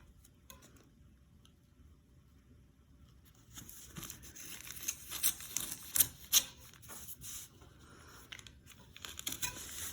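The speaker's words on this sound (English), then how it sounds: "I use my kitchen knife, regular knife would do, to open up the bottom." A kitchen knife slices through the bottom of a paper bag after a few quiet seconds, producing close, crackling, crinkling and tearing paper sounds with several sharper ticks and rustles.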